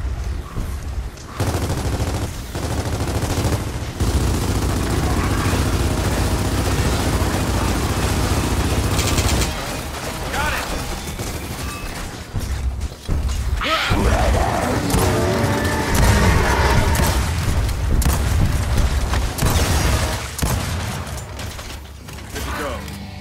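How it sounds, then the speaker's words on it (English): A frag grenade is thrown and bursts in Gears of War 4 amid a dense, loud firefight, with clattering mechanical weapon noise, rapid gunfire and sharp blasts that keep going throughout. "Throwing frag"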